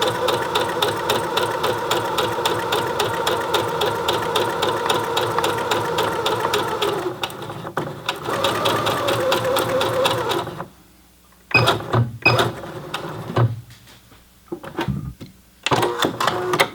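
A Singer Heavy Duty 6800C sewing machine stitches at a long stitch length with a loud, steady mechanical whir for about ten seconds, followed by a few short bursts and clicks.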